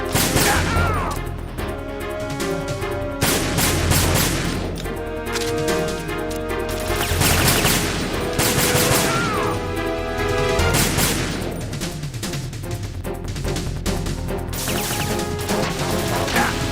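Enemy gunfire in Metal Gear Solid, dense rapid bursts of shots and crashing impacts that keep up loudly without a break, layered with game effects and background music.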